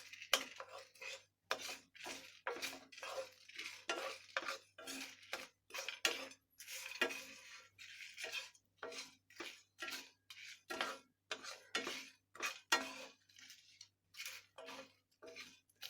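A spoon scrapes dry masalas and fried chili out of a pan, a quick series of close metallic clinks and scrapes in an irregular rhythm, heard alone without talk.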